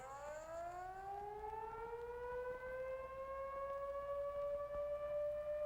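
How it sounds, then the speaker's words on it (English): A civil defense peacetime emergency alert siren sounds as one steady, sustained wail that rises in pitch at the start and then holds a long even tone, loud and alone. "Here's what the alert signal sounds like."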